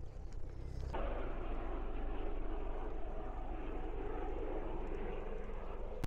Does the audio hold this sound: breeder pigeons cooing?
no